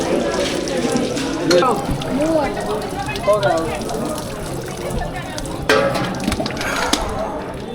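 Water is drawn from the Mahamrityunjay well in Varanasi into a container, a continuous splashing, trickling flow heard up close beneath steady crowd chatter and nearby voices.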